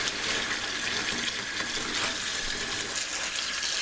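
Cold tap water pours steadily into a sink, a constant close rushing splash with no pauses.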